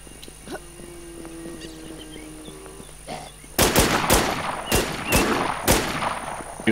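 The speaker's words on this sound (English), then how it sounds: "Shooting the guy in the parking lot." Video game gunfire aimed at an enemy in a parking lot: a quiet stretch of faint tones and ambience, then a loud run of sharp, closely spaced shots with short gaps, near and dominant.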